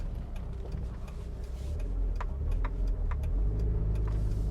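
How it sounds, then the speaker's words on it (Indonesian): A Mitsubishi Lancer Evolution IX Wagon's exhaust gives a steady, bassy, moderately loud drone while driving, with faint ticking clicks on top and no talking. "Knalpotnya juga enak, jadi nggak terlalu keras tapi ngebas."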